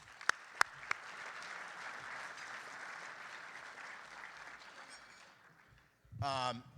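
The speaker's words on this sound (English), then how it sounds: "So let's give them a round of applause." Sustained applause from a banquet audience honoring Minnesota hockey players, a steady broadband wash of clapping for about five seconds that fades out, with a few sharp knocks near the start and a brief voice rising at the end.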